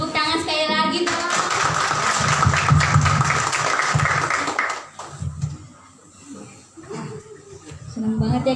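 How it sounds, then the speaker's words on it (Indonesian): Children and a church congregation clap together in a burst of hand applause lasting a few seconds, then fade into quieter room noise as voices talk around it. "Tepuk tangan sekali lagi dong."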